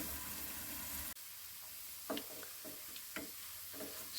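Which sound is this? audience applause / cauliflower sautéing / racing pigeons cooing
cauliflower sautéing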